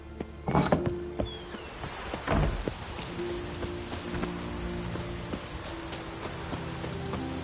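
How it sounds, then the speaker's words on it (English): Steady rain falls in the video game Okami, a constant soft hiss of drops under a few louder knocks and thuds early on, with low ambient tones humming throughout. "It's raining."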